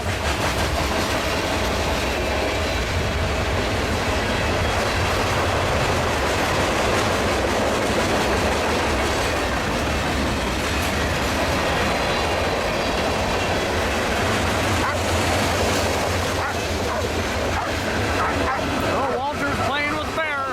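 A Union Pacific mixed freight train rolls past close by, a long, loud, continuous rumble and rattle of wagons with rhythmic wheel clatter and brief wheel squeal near the end.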